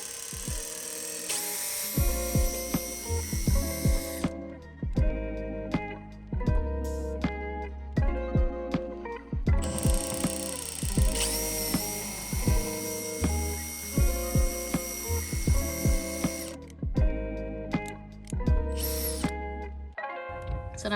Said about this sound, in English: So now we're just gonna go ahead and drill the holes for the support rod.